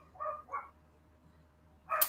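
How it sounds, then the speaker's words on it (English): A dog barks a few times in the background during a morning writing session, two short muffled barks followed by a louder one after a pause, fairly distant and alone without talk. "Dog barking in the background as per tradition."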